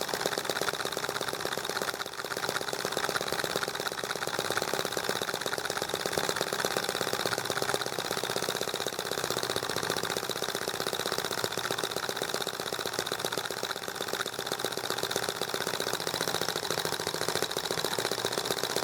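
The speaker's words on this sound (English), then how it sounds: "as you can see, the EM1 just sort of started up no problem" An EM1 engine runs steadily after starting, a continuous close mechanical drone with a fast, even knocking pulse that holds constant throughout without pauses or voices.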